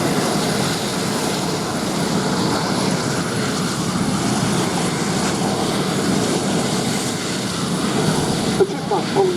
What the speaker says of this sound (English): The Chipmunk pulling away first from the formation.